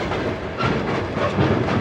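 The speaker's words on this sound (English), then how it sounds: "Well, look at this locomotive." An old locomotive hauls a train on the Trans-Siberian Railroad, a loud, close, steady rumble with rolling mechanical noise across a brief stretch.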